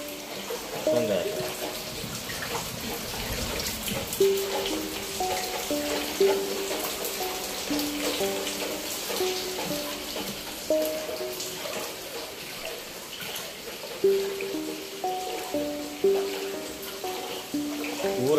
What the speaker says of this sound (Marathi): पूर आला आमच्या घरात.